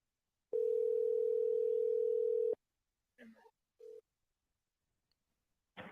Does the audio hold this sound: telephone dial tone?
yes